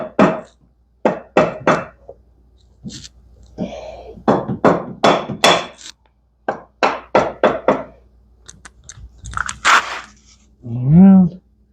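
A gasket being tapped into place on a 2003 Robin engine during an oil leak repair, heard as short knocks and thunks in irregular clusters, close by, with someone talking between them.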